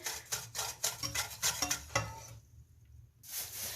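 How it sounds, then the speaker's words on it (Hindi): Ingredients for a kinno orange recipe being mixed in a pot, with a run of close scraping, stirring clinks against the pot, a brief quiet gap, then stirring again. "ये सब चीज़ों को अब मैं मिक्स करने लगी हूँ"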